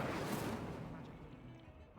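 The Incendio fire spell is cast in the Hogwarts Legacy video game, a loud whooshing roar of flame that bursts at once and then slowly fades.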